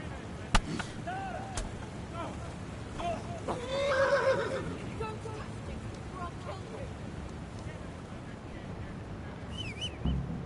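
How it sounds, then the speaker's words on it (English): A horse in the video game Deliverance neighs and whinnies in several wavering calls amid game ambience, with a few sharp clicks and a voice talking over it. "You just distract them with the horse."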